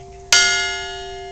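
One strike of a newly installed bell with the wooden side of a hammer produces a clear ringing tone that sustains and slowly decays, loud and close with nothing else heard.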